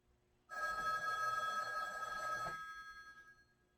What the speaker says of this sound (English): oh, you hear the phone?